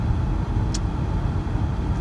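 A 2003 Audi A6 Quattro 3.0 V6 with a 5-speed automatic and almost 140,000 miles cruises on a highway, giving a steady low road and engine rumble inside the cabin with one faint brief tick.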